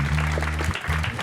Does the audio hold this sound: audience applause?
yes